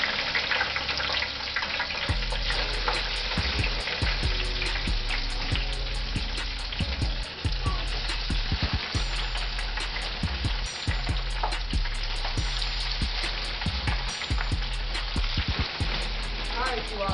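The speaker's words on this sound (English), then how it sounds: "we're just gonna take them out the bag and just add them to the deep fryer" Frozen French fries frying in a deep fryer, a dense continuous bubbling sizzle like heavy rain, close and steady throughout with a few sharper crackles and no speech.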